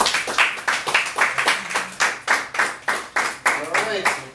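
A small audience at a poetry reading in a living room claps in a rhythmic, fairly close round for poet Blak Reign, with a speaking voice over the beats.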